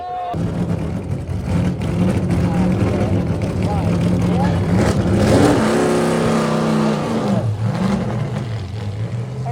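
A loud Dodge car engine revving and droning during a hill climb, pitch rising and falling, with a voice talking over it throughout.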